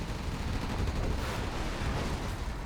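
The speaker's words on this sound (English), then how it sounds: "Another artillery barrage comes in." An artillery barrage in the video game Generals Evolution, a dense continuous rumble of overlapping blasts and distant booms rolling on without a break, steady and heavy.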